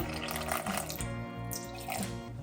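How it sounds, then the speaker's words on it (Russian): About 50 grams of water pours into a bubbling sourdough starter in a home kitchen, a short, close, continuous trickling splash. "Добавляю сюда 50 грамм воды"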